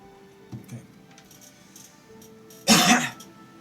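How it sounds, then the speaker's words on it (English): One short, fairly loud cough close to the microphone, preceded by a faint throat sound, over low background hum while the game Visions of Mana plays. "I have myself a little bit of a cough here."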